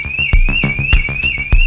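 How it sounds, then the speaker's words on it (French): A house burglar alarm going off indoors, a loud electronic warble sweeping up and down in a fast repeating cycle with sharp pulses about every third of a second, close and alone. "Les parents, pensant que je ne rentrerai pas, ont mis l'alarme."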